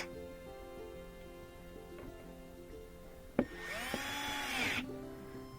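Power driver spinning screws into the rear bumper of a Gen 3 Toyota Prius, a steady background hum broken by a sharp click and then a rising, whirring burst of about a second and a half, close by with no talk.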